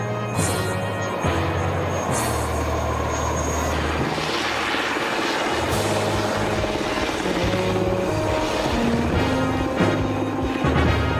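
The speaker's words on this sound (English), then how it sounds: "the helicopter returns to quickly extract the rescue party and pilot" Military rescue helicopter hovering low to extract a downed pilot and rescue party during the Gulf War, a loud continuous rotor thump and turbine roar that stays close and steady throughout.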